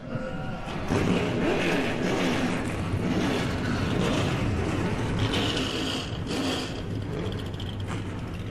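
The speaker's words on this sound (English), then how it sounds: "Start your engines." Race car engines roar at the start of the 2012 K&N Pro Series East Blue Ox 100 on the three-quarter-mile Richmond track, a loud, dense, steady rumble that carries throughout.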